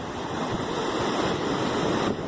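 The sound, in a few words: ocean waves at Atlantic Ocean beach, Florida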